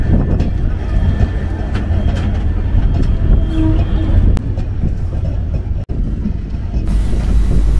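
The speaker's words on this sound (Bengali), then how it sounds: "নির্ধারিত সময় থেকে 3 মিনিট বিলম্বে আমাদের ট্রেন ছেড়ে যাচ্ছে ঈশ্বরদী জংশন।" The Madhumati Express departs Ishwardi Junction from platform 3, a loud continuous rumble and rattle of the moving train heard from on board, with a faint voice partly audible under the noise.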